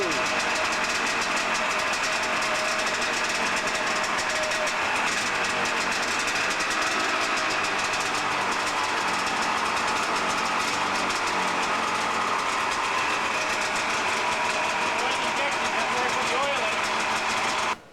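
Two-cylinder oil-injected engines start and run, making a continuous, loud, busy mechanical clatter and drone that fills the whole stretch without pause.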